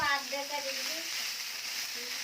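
Chicken pieces sizzling and frying steadily in a hot pan while shawarma is being made, a continuous close hiss with faint voice-like tones near the start.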